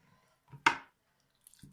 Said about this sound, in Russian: дальше нарезаем все это дело соломкой